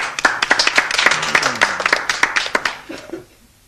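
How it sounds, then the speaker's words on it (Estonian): Audience clapping in a cosy theatre setting, a run of sharp hand claps over about three seconds with scattered voices underneath, then fading to near quiet. "Tore on kuulda siin õdusas õhkkonnas aplausi"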